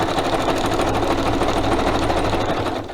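A sewing machine stitches steadily through book pages, a loud, continuous mechanical whir with a rapid even rhythm and no pauses or talking.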